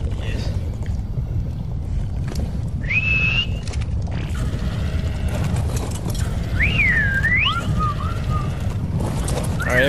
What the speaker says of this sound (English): And I just whistle everybody to follow.